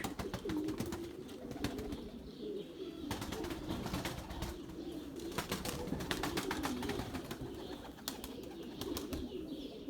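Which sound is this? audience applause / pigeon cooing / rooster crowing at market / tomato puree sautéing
pigeon cooing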